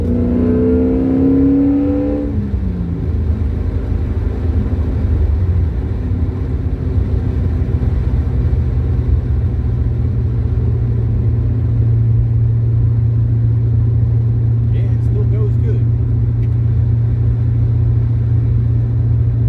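A 6.0 LS V8-swapped Porsche 944 drives along with a loud, steady engine drone heard from inside, rising in a rev near the start and holding a deep continuous rumble throughout.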